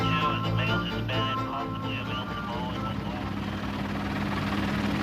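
A police helicopter flies overhead with a steady rotor thump and whine, loud at first and holding throughout, with a voice speaking over it.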